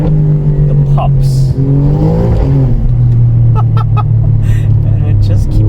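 An Alfa Romeo Giulia Quadrifoglio's 2.9-liter twin-turbo engine drones loudly and close, its pitch rising as it revs, followed by a string of sharp exhaust cracks and pops.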